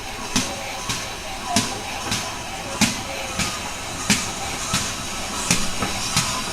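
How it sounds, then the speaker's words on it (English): A West Somerset Railway steam train arrives at a station with a regular rhythm of sharp chuffing bursts, about two per second, over a busy background with faint murmuring voices. "here's the train coming in"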